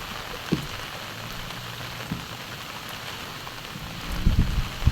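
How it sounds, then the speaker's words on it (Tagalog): Rain falls beside a river in a steady, soft hiss of drops, with a few faint knocks and a louder splashing patch near the end. "Maulan yan eh."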